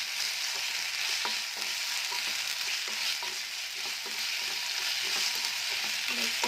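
Soya chunks fry with ginger-garlic paste in a hot pan, a loud, continuous sizzle up close with faint scraping and stirring ticks throughout and no voices.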